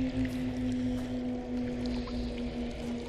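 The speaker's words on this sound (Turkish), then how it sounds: "Su sesi var." Flowing water in the horror video game Kholat, a quiet, steady wash under a low droning tone, with no talking.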